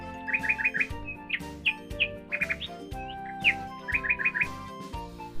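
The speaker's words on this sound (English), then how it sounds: "Nightingale makes pipe, sing and warble sound." A nightingale sings in quick bursts of piping chirps and warbling trills, fairly clear and close, repeating in short phrases over a steady low musical backing.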